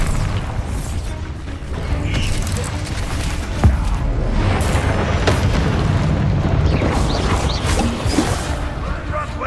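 Explosive Bombarda spell blasts in the Hogwarts Legacy video game, a dense rumbling boom with crashing debris over a steady loud bed of combat noise, with one sharp burst standing out midway.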